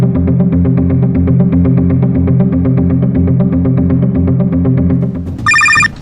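A telephone rings in a steady repeating electronic pattern, loud and close, for about five seconds before the tone cuts off and a brief higher chime follows.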